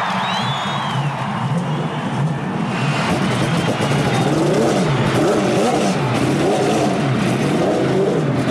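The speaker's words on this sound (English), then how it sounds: "And now, the 33 cars fire to life. A huge roar has caught up along the main straightaway" Thirty-three Indianapolis 500 race cars fire up together at the 1992 race, a loud, sustained, layered engine roar with wavering revs that fills the speedway under crowd noise.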